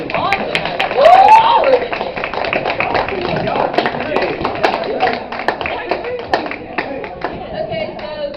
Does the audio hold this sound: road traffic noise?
no